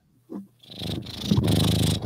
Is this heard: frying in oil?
no